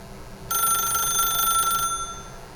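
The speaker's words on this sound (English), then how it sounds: "then pick up the phone." A telephone rings in one steady electronic burst lasting over a second in the video game The Stanley Parable, loud and close, with no talk over it.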